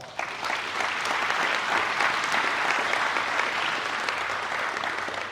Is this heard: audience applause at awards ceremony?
yes